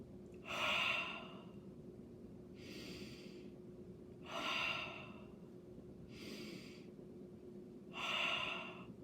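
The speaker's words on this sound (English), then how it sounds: "when you breathe in, I want you to let your belly fall" Deep, slow breaths for a singing exercise come close and clear, with five airy inhales and exhales spaced about two seconds apart over a quiet steady hum.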